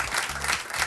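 A brief burst of audience applause at a Turkish quiz night rises and falls as people clap for a woman contestant.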